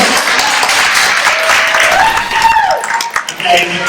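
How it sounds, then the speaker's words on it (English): A school crowd breaks into a short round of applause and cheering, dense and loud, with voices and whoops mixed in and a tonal sound rising through the middle before the clapping thins out. "One round of applause."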